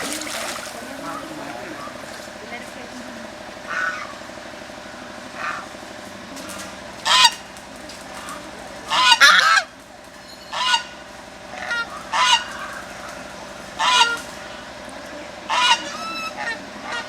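Geese on a farm honk in short, loud bursts, several calls coming in clusters over a steady low background hum, with quieter gaps between the calls.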